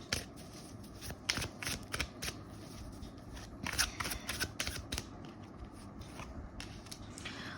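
Tarot cards are shuffled and drawn by hand, giving close, crisp riffling and flicking bursts in irregular clusters with brief gaps, and no talk over them.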